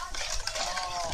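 A spoon stirs dragon fruit juice with sugar and UHT milk, giving faint, quick clinks and swirls against the container in a short burst.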